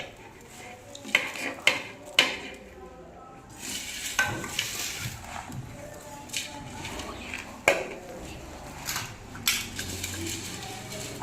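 Chopped onion is tipped into a bowl of bhel and stirred, giving a soft crunchy rustle with a few sharp clinks of a spoon against the dish. Children can be heard talking quietly in a classroom-like setting.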